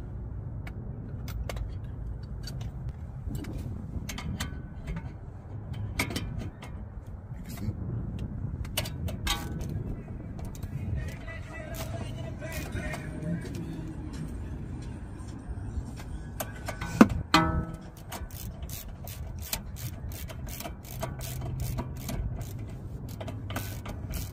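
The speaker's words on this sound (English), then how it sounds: "I don't have my 16 wrench on me right now, so we're gonna use the adjustable wrench" An adjustable wrench working a nut on the front strut of a BMW X5/X6 during a Bilstein shock replacement, giving repeated close metallic clicks, ticks and ratcheting taps against a low garage background.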